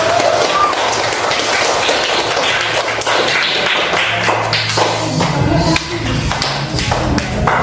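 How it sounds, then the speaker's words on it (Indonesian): An audience at an Indonesian Islamic religious education teacher-training session applauds in a dense, steady stream of claps that lasts throughout, with faint voices underneath. "beri tepuk tangan lagi sekali lagi"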